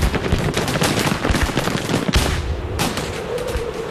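Heavy artillery and gunfire at Port Arthur make a dense, continuous barrage of overlapping blasts and rapid cracks, loud and sustained throughout, with a few sharper reports standing out and no speech.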